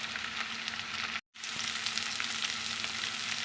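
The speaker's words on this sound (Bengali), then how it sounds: "চিংড়িটা কিছুক্ষণ নেড়ে নিয়েছি এখন দিচ্ছি বেগুন আর একই সঙ্গে দিয়ে দিচ্ছি একটু লবণ আর দিচ্ছি হলুদ গুঁড়ো" Prawns frying in a pan with eggplant, salt and turmeric powder give a steady, close sizzle that breaks for a brief moment and then resumes, with no talking.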